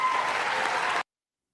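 An audience applauds after a Legion of Merit award, a loud, dense burst of clapping that stops abruptly after about a second.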